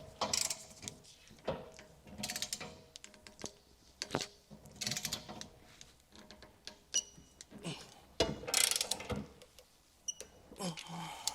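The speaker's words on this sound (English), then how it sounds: "So go ahead and get these all torqued down properly." Socket wrench with a 3/4 inch socket tightening bolts on a B&W Patriot 5th wheel hitch mounted in a 2020 GMC Sierra 2500 truck bed; repeated ratcheting clicks and metallic clanks come in short, irregular bursts, fairly close, with no talking.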